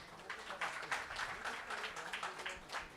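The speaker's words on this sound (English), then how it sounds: "can you please give the entire panel a big round of applause?" An audience at a public relations conference applauds a panel, a continuous wash of many hands clapping, fairly distant and soft, sustained for a few seconds.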